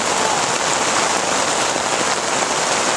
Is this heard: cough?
no